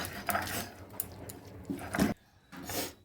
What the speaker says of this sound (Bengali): এবার ঠান্ডা জলে এবার পালং শাকটা আমি খুব ভালো করে বেটে নেব।